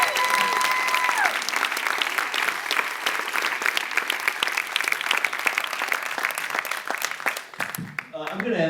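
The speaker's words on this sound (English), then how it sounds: "Round of applause." A theatre audience at a film Q&A at the Prytania Theater gives a dense, loud, sustained round of applause. Voices and cheers mix in early, and the clapping fades near the end.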